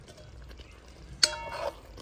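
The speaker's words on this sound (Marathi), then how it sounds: "आता चांगल्या प्रकारे मिक्स करून घेऊ." A spoon scrapes and clanks once against a pan while egg tandoori masala gravy with fried egg tikka and chopped coriander is mixed, followed by a short soft rustle of stirring. It is fairly quiet, with no talking.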